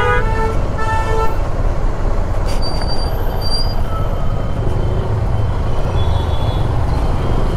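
Dense traffic on the Mumbai–Goa highway at Mangaon rumbles loudly and continuously, broken by several short car horn toots early on and a few more scattered later.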